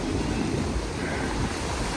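Steady, broad wash of surf rolling onto Karma Kandara Beach in Bali, with wind rumbling across the microphone throughout; no voices.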